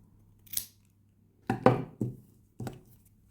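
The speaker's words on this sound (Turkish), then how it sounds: "fazlasını kesiyorum" Scissors snip off excess yarn from a crochet strawberry motif in four crisp, close cuts, one alone and then three in quick succession, with quiet pauses between.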